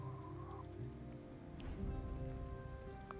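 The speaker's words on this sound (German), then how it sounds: "Es regnet." Steady rain falling in the strategy video game Siedler V, a constant hiss and patter of drops on surfaces over game music, at an even, moderate level throughout.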